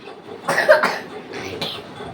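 Two short coughs from a mild cold, the first louder, close by with a breathy, rough quality and a brief pause between them.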